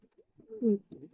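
A pair of English Barhoma fancy pigeons gives a soft, low cooing call, a single short warbling coo with faint rustles around it, close and quiet.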